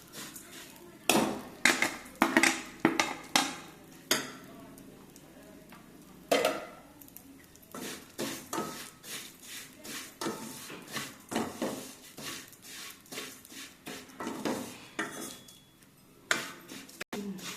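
Vermicelli roasting in a pan, a spoon scraping and clinking against the metal in irregular bursts with soft sizzling between, close and fairly quiet.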